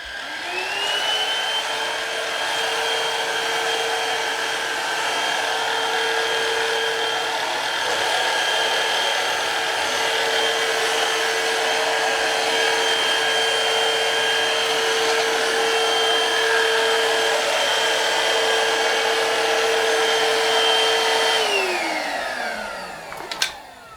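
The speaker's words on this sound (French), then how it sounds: "Moi, je vais passer l'aspirateur." A household vacuum cleaner whines steadily indoors for over twenty seconds, a constant loud motor drone that winds down at the end.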